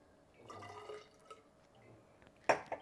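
Homemade gin being poured back into a vessel during home distilling: faint short trickles and drips, then a sharper splash and clink near the end, with no speech over a quiet background.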